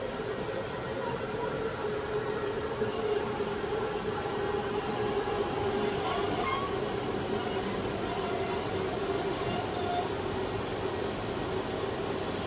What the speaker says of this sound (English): The loco arrives shortly after, to be attached to the carriages just pulled in by the shunter.